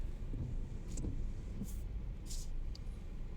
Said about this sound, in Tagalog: Mayroong mga jeep na rin po pala rito na dito halos dumadaan.